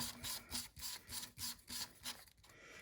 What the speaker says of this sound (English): And I can finally attach my suppressor to it.